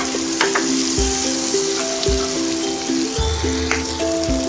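Jackfruit manchurian being stirred with pepper and salt in a frying pan, a steady sizzle of frying with repeated scraping strokes of a spatula and low clunks against the pan, close and continuous.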